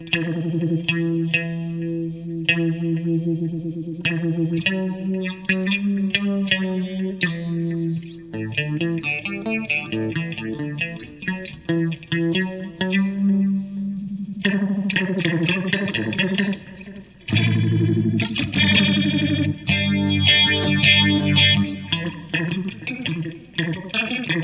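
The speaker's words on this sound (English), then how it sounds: "So it sounds like it activated a phaser" Electric guitar through a phaser effect on a NUX MG100 amp, swirling, sweeping chords and picked phrases played continuously, close and loud with no talking.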